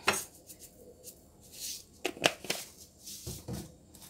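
A pestle pounds sugar and MSG in a mortar, giving a series of sharp, irregular knocks and clinks at close range, some quick double strikes and some single hits, with no voices.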